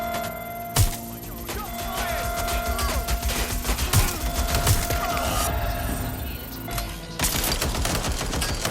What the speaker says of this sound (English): That's a hit! Taking fire!